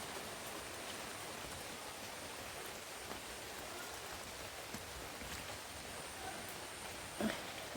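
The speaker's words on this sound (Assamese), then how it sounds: "এয়া বৰষুণ দি আছে, সেইকাৰণে ঘৰলৈ ঘূৰি গৈছোঁগৈ।" Rain falls outdoors over a home garden in a faint, steady hiss with a few scattered drops.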